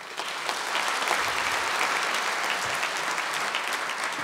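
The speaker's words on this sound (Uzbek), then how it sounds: "Iltimos qarsak chalib beringlar." An audience at a stand-up comedy show breaks into continuous applause, a thick, even wash of clapping that holds from start to finish with no voices on top.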